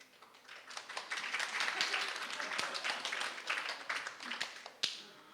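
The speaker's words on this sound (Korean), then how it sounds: "물개박수를 치고네" Enthusiastic clapping from a church congregation at a multi-ethnic worship service, a fast, irregular patter of many hands held at moderate loudness throughout, with a few sharper claps standing out near the end.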